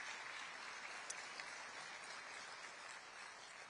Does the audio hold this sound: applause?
yes